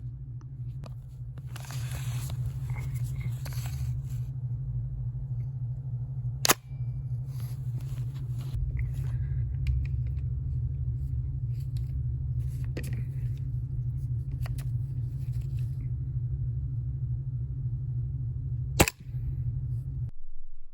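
An airsoft gas blowback gun with its flash hider packed with snow fires two sharp, isolated shots several seconds apart over a steady low outdoor rumble.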